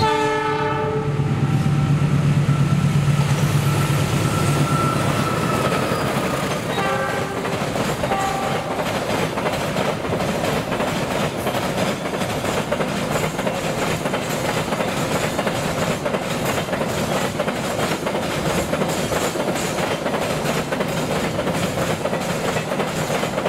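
A direct commuter train on the Kampung Bandan–Benteng route races past at high speed, sounding its horn early on before a long, loud roar of wheels with steady rapid clickety-clack rhythm fills the rest.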